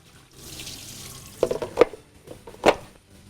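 Noodles are rinsed with water while preparing dry chicken chilli in a kitchen, with a running tap sound and a few sharper splashes and clatters at close range, fairly loud and without talk.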